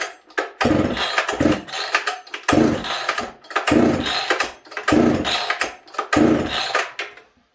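Repeated pull-start attempts on a Husqvarna 266se chainsaw with a newly replaced clutch, heard close as about six rhythmic bursts of sputtering rasp separated by short pauses, with no engine catching.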